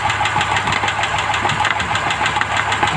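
A Rover P5B engine idles loudly with a noisy valve lifter, its fast regular ticking riding over a steady mechanical drone close to the engine.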